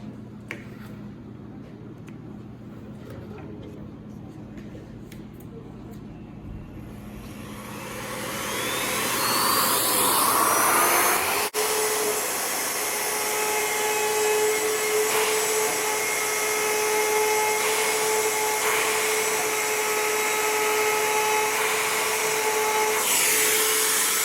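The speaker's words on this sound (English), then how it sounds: "So our router needs to be set between the 16th and 8th of an inch past the base" Wood router rounding over the handle of a boat paddle: quiet room tone and a few clicks, then the motor spins up to a loud, steady high whine that holds to the end.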